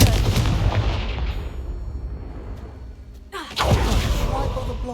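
A fiery Confringo spell blast erupts in the Hogwarts Legacy video game, a loud roaring burst that fades over a few seconds before a second heavy impact crashes in.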